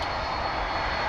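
A Boeing 767 moving out at DFW Airport gives off a steady, dense engine roar with no break through the short stretch, close and fairly loud.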